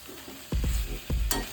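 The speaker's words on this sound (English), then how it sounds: "So give it a good mix so that the masala is coated on every piece." Chicken pieces coated in masala get stirred in a pan, a soft sizzle underneath two or three distinct scraping stirs and a brief clink of utensil against the pan.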